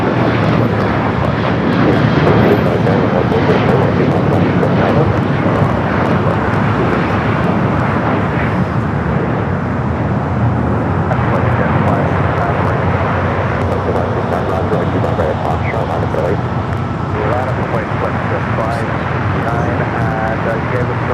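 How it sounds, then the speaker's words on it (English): Nippon Cargo Airlines Boeing 747-8 freighter at LAX, bound for Tokyo Narita, producing a heavy, sustained jet engine roar with deep rumble that fills the whole span, a voice talking underneath. "Nippon Cargo. Airlines Flight 101 heading to Tokyo Narita, the 747-8 freighter."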